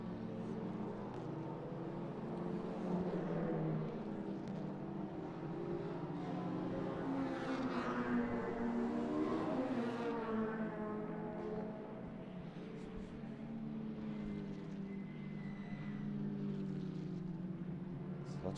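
A touring car engine roars down the main straight at Mondello Park, a sustained loud drone that rises in pitch as the car accelerates, then holds steady before easing slightly.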